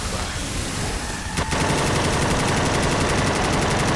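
Automatic gunfire in Left 4 Dead 2 rattles out as a loud, rapid, sustained burst, preceded by a single sharp shot and dense background game noise.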